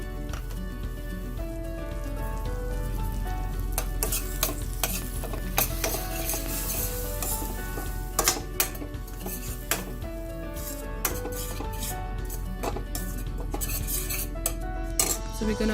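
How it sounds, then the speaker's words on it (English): Masala paste being fried and stirred in a pot for a Goan fish curry, with a constant sizzle and the repeated clink and scrape of a spoon against the metal, close and steady with no talk. "So we're going to fry that paste again."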